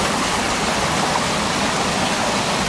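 A waterfall by an old mill pours down into deep water, a loud, steady broadband roar of falling water that fills the whole moment without a break.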